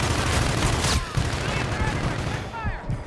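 Rapid gunfire and explosive booms from the Call of Duty Infinite Warfare video game, dense and loud throughout, with game sounds layered over the shooting.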